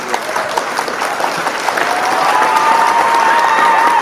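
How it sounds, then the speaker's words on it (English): A crowd claps steadily on a live radio talk show, with scattered cheers and a sustained tone rising under the applause as it builds toward the end. "Drop the motherfucking claps up for Sister Soul Main Radio."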